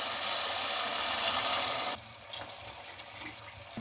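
About 1.5 glasses of water pours steadily into a pot of rice for pulao for a couple of seconds, then stops, leaving faint clinks and a quiet background.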